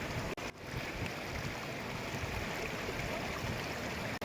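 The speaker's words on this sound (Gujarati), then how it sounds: "પાણીના ધસમસતા પ્રવાહના કારણે પૂરની સ્થિતિ સર્જાઈ ગઈ" Floodwater rushing across the Raval–Chandravada road in the Jam Raval area of Dwarka after heavy rain, a loud and steady broadband roar of churning water that continues without pause.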